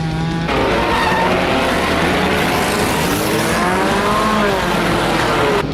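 Racing car in a video game enduro race, its engine droning loud and steady with harmonic whines rising and falling as it revs, tires squealing and skidding throughout, with no talk over it.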